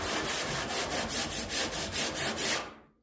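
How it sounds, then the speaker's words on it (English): A one-handed sander works over car paint on a vehicle body panel, producing a dense rhythmic scratchy rasp with regular strokes for about two and a half seconds before cutting off, close and alone. "one-handed sander, you see that, people? It's not too bad, but it is clogging a little bit."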